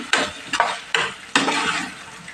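Chopped potatoes being stirred into chicken kurma in a pan, with four scraping, sizzling strokes at a steady pace, close and fairly loud, and no voices.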